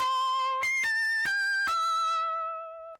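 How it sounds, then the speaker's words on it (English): A harmonically rich, pitch-shifting tone with a slight wobble from the RC-20 plugin adding drive, stepping through several sustained notes before fading out, heard alone. "Followed by our good buddy RC20 on these settings right here, adding some more drive, adding some wobble"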